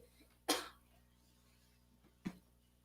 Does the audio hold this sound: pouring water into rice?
no